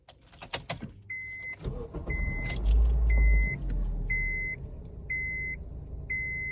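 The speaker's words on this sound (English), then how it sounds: "Let me turn on the car." Keys jangle, then a car engine cranks and settles into a steady idle rumble, and an electronic dashboard chime beeps evenly about six times over the running engine.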